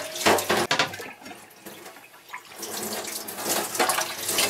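Running tap water splashes over a plastic cutting board being rinsed clean in a sink, a steady hissing flow with brief louder bursts as the board moves under the stream.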